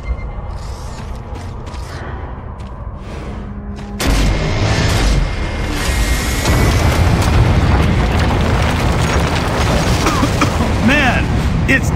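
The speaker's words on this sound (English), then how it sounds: "Let's give this lift a shove." A grind lift in Gears of War 2 creaks under a heavy shove, then crashes down with a loud rumbling boom that gives way to sustained grinding, clattering debris, with a voice speaking early on.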